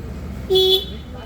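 A single short, steady horn toot from a used TVS Stryker 125 motorcycle sounds once over a quiet background hum.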